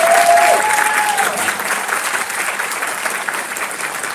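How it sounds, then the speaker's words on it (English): An audience at a Board of Education meeting applauds Jackson School teachers and staff with sustained dense clapping that starts loud and eases slightly, a brief whistle-like tone near the start. "So please give them a round of applause"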